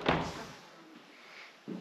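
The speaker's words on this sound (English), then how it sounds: "When a door opens on its own." A door bangs in an abandoned care home, one sharp close thud at the start followed by a quiet, hollow room tone and a softer knock at the end.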